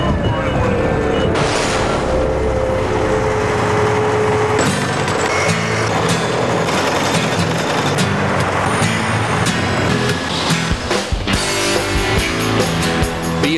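An Ingersoll Rand ABG Titan road paver laying hot asphalt gives a loud, dense mechanical roar with clanks and rumbling, running steadily throughout.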